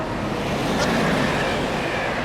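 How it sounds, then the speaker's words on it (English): Subway train in a children's cartoon rumbling past with a steady, continuous roar of wheels and rails, loud and close throughout, with no talk over it. "Taio, it's the subway train!"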